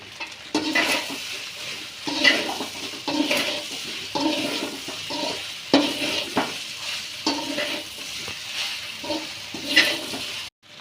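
Podi idli tossed in a hot pan gives off repeated scraping stirs and light sizzling in uneven bursts, close and fairly loud, with no talk.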